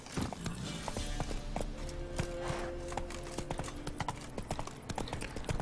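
Roach, a horse in The Witcher 3, galloping with continuous rapid rhythmic hoof clip-clops, loud and close, alongside faint steady game music tones in the background.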